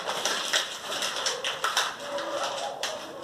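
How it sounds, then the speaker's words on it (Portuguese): A sheet of paper is crumpled by hand, producing a run of close, crisp crackles and rustles in irregular bursts with no talking. "A tia amassou a folha."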